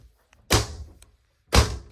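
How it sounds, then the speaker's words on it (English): A camper trailer door on a 2023 Merhow Stampede horse trailer with living quarters shuts twice, each a sharp, close, solid thunk with a short rattling decay, about a second apart, with no talking. "Camper door."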